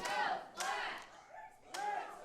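Crowd at a wrestling match cheering and shouting for Flash Flanagan, swelling in three loud bursts of massed voices, with fainter roar between.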